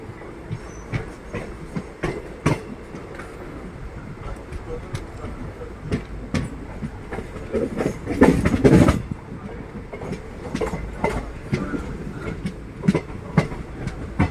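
An intercity train running from Coimbatore toward Tiruppur, heard from inside a nearly empty coach: a steady rolling rumble with repeated rhythmic wheel clacks, swelling into a louder, rougher passage midway before settling back.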